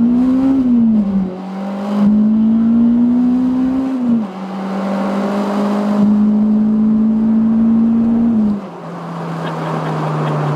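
Acura RSX Type S fitted with Hasport motor mounts idling at a standstill, a steady low hum with a faint dip and shift in pitch around the middle and near the end, loud and close with no talk.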